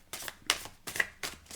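Tarot cards being shuffled and drawn by hand, four quick crisp riffling bursts in an even rhythm, close and clear with no talking.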